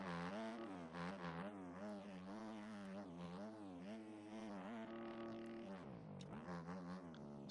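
Racing video game car engine held at high revs through a lap on a rain-soaked track, a steady loud harmonic drone that swells and dips with throttle changes, briefly shifting pitch mid-lap before climbing again.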